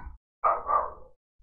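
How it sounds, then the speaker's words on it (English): A dog gives two or three quick, close barks that run together, with a brief muffled woof just before and quiet between. "Shush, dog."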